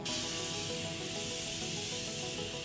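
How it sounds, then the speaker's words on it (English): A Morphe Prep and Set makeup setting spray mists steadily, a continuous close airy hiss that fills the whole moment with no pause and no talking. "So I'm gonna be using my Prep and Set makeup setting spray."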